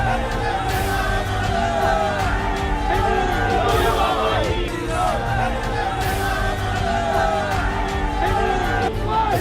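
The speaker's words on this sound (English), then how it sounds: "The crowd celebrates the return of a conquering hero." Large outdoor crowd welcoming a Hindu political leader, with steady dense yelling, whooping and shouting that stays loud and continuous throughout, many voices blended into one roar.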